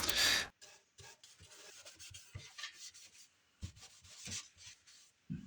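Soft cloth rubbing and wiping pre-stain conditioner across a wooden board for a farmhouse build, a rough swishing burst at the start followed by intermittent light strokes and scuffs, close and fairly quiet with no talk.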